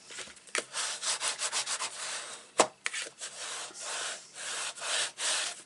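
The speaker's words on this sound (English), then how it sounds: "just fold this flap over now and give it a good burnish" A folded paper card flap is burnished, giving repeated close scraping rubs in quick strokes with a few sharper scuffs, with no voices.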